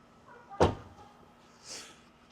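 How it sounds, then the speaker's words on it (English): A Tesla Model 3 car door shutting with one solid, firm thud, followed by a softer rustle a moment later. "Even the doors feel nice when I shut them."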